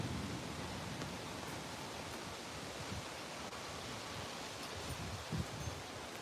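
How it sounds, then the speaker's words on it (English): Wind rises outdoors as a storm's outflow boundary moves through, making a faint, steady broadband rush that rustles on without clear gusts. "wind is picking up"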